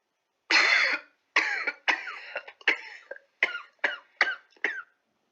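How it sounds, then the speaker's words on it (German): A patient gives eight coughs in a row during a medical examination, the first long and harsh, the rest shorter and evenly spaced, close and clear with no talking. "Husten Sie bitte noch einmal."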